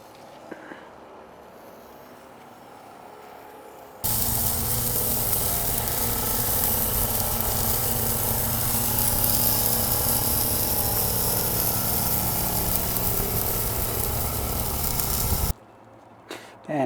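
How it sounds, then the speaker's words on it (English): A mushroom quesadilla sizzles loudly on a very hot griddle, a steady broad hiss that starts abruptly and holds for about eleven seconds before cutting off, with quieter background before and after. "we'll move it onto that really hot griddle. Let it cook."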